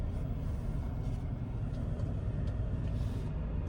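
A car engine rumbles steadily at close range as the vehicle turns around and drives off, a constant low drone with no talking.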